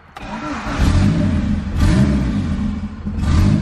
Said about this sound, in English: My foot is on the gas right now, holding it at like 1500